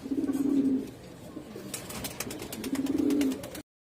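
Cooing of rare-breed fancy coloured pigeons, two clear rolling coo phrases close by, with softer bird sounds and light fluttering clicks in between, no talk.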